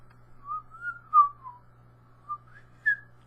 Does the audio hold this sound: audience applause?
no